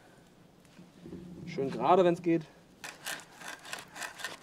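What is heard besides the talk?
drilling a hole into a wooden branch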